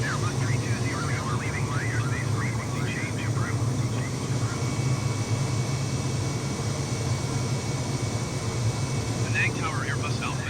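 An airliner in a flight simulator, an Airbus climbing just after takeoff with landing gear up, drones as a steady loud engine roar with a constant hum throughout, while a person speaks intermittently over it.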